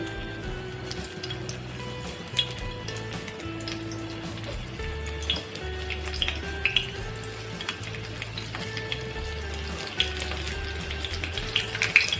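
Stuffed okra (bharli bhendi) frying in a pan, a steady soft sizzle and crackle that runs throughout with occasional stirring clatter and brief sharp pops, close and moderately loud, no talking.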